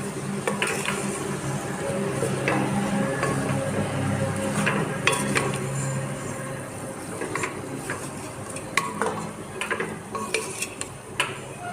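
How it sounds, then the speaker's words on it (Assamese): A banana flower and fish head dish being stirred with salt, with a spoon scraping and clinking against the pot over a low sizzle, repeated stirring strokes close by and no speech. "নিমখ দি লৈছোঁ আৰু এবাৰ ভালদৰে লৰাই দিম।"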